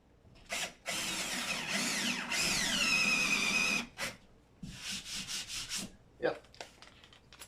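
Drill with a 1/4 inch bit boring through a wall into a wooden stud: a long whining, rising run, then a few short bursts and clicks, close and fairly quiet.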